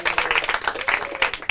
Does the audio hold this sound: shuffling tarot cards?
no